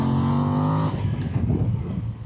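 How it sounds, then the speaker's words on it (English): A Voge DS800X Rally motorcycle on its standard exhaust with catalytic converter revs hard with a sustained, buzzy note, then cuts off abruptly into a rumbling idle, close and loud. "I think that sounds wicked for a standard exhaust and a standard legal system with a cat and everything"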